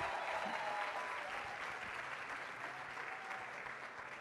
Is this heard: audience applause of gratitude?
yes